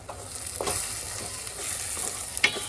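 Pav bhaji masala with Kashmiri chili sautéing in a pan: steady, close sizzling with soft stirring scrapes and a few sharper spatula knocks.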